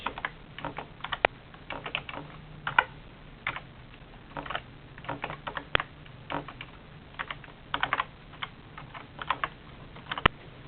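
Quick bursts of keystrokes on a computer keyboard while code is typed, close and clear, with irregular rhythm and short pauses between runs of clicks, no talking.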